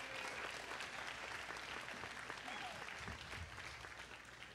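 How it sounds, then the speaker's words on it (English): Round of applause from the audience at a 3D web festival event, continuous dense clapping at a steady level from start to finish. "Give a round of applause to Damon and all the people who put on this event."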